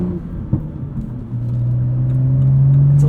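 A modified 2016 BMW 435i with six-speed manual, bolt-ons and a tune pulls through a shift, its exhaust burbling low before the engine drone climbs and settles into a loud, steady rising tone.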